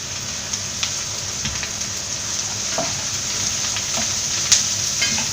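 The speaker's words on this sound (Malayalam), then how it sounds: "ഇനി ഇത് നന്നായിട്ടൊന്ന് വഴറ്റിയെടുക്കാം." Onions and shallots sauté in a pan for Kerala-style mutton curry, giving a steady crackling sizzle with scattered sharp pops and the clink of stirring.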